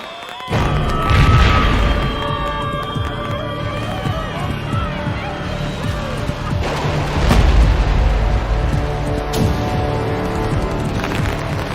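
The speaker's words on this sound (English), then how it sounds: "A cache of fireworks has ignited, setting off a destructive chain reaction." Stalls of stored fireworks explode in a chain reaction: continuous loud crackling and popping bursts with repeated booms, rumbling on and on amid crowd noise and shouting.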